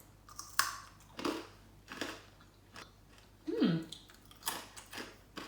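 Loud crunchy chewing up close of a Polish sesame sweet, a series of sharp crackling bites about once a second with brief pauses between them.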